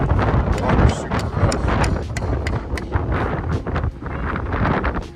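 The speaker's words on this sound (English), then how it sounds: "Very windy up here." Strong gusting wind buffets the microphone on a rooftop job site where rafters are being raised, a dense, loud roar with rapid rumbling surges and faint knocks throughout, no talking.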